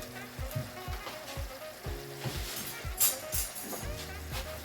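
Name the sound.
sliced onion frying in venison stew pot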